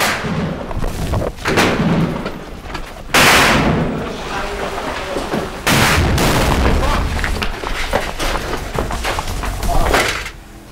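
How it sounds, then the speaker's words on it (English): Bursts of gunfire from regime forces in Aleppo, Syria, aimed at a nearby wall close to the Adliya Mosque, with loud booming reports at irregular intervals over continuous noisy background. "Now the regime are firing back,"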